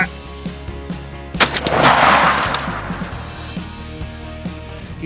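A single loud rifle gunshot fired at a deer while hunting, a sharp crack followed by a long rolling echo that fades slowly over several seconds in open outdoor air.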